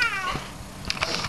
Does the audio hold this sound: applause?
no